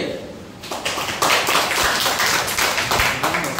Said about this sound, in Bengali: হ্যাঁ, হাততালি দে।